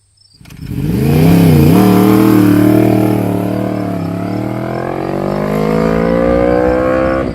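A motorcycle engine starts up and revs hard close by, its pitch sweeping up and dipping before settling into a loud, sustained drone that slowly climbs again.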